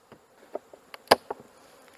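Honeybees at an open hive during a winter-prep inspection buzz in short, faint passes, with one louder buzz flying close by.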